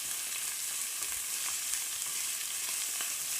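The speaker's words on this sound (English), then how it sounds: "Keep stirring, get all those flavors and spices mixed in with the onions" Onions with spices sizzle steadily in a pan, a close, constant hiss with occasional soft scrapes and clicks of stirring.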